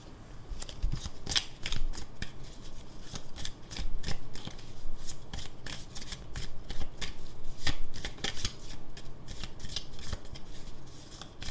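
Tarot cards are shuffled close up before a reading, giving a continuous run of crisp riffles and soft slaps in uneven bursts.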